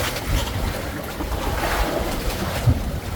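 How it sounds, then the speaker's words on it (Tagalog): Big ocean waves wash and slosh around a boat at sea ahead of an approaching storm, with steady broadband surging, wind buffeting the microphone and a thud near the end, loud and close without speech. "Yan naman laki alon."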